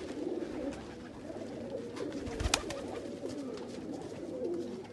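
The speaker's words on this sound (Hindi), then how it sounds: "और परेल कबूतर हैं ये दोनों" A pair of Parel pigeons coo softly and steadily against a murmuring background, with one brief louder knock midway.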